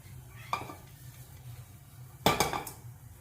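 Onions sautéing with bay leaf, cardamom, cinnamon, cloves and star anise in a pan, a quiet low sizzle broken by a couple of sharp metallic scrapes and clinks of a spoon against the pan.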